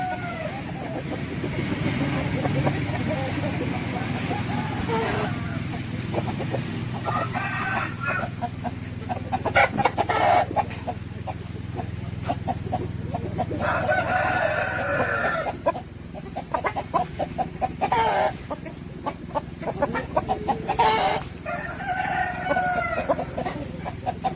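Native-breed roosters at a farm in a garden crow repeatedly and cluck continuously, several birds near and farther off, over a steady low rumble with a passing vehicle in the background.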